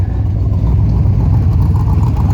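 A Corvette fitted with a Tremec 5-speed conversion drives along, its engine droning in a steady, loud low rumble heard close from inside the car, with no talking.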